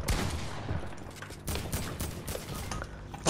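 Gunfire in a 1v1 video game match, a crackling spray of overlapping shots that comes in uneven bursts with brief lulls, fairly loud and close throughout.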